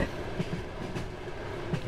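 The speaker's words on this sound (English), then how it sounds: "The next 4 days I spent in a train from Novosibirsk to Vladivostok." Steady rumble of a passenger train on the Trans-Siberian route between Novosibirsk and Vladivostok, heard from inside, with a continuous low roll and faint periodic wheel clacks.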